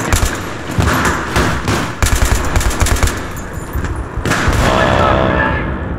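Rapid automatic gunfire in Battlefield 3 on the Ziba Tower map, loud bursts of close shots with a thumping rhythm, then a heavier rumbling boom near the end.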